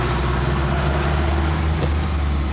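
A tractor mows roadside ditches in Austria, its engine a steady, loud, droning hum with a constant low rumble that holds unchanged from start to finish.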